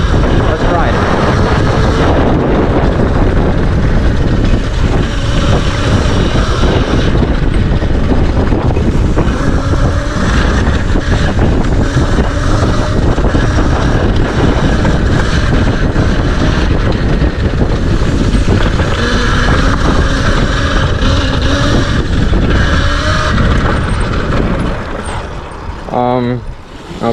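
A 48V Razor electric bike is ridden outdoors with heavy, constant wind buffeting the microphone, a loud roaring rush that lasts throughout and drops off briefly near the end.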